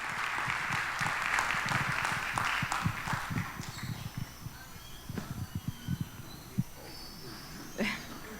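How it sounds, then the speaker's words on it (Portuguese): Church congregation applauding the Lord during a service, a loud stretch of clapping at first that fades into scattered, softer claps and thumps. "Vamos aplaudir o Senhor, irmãos."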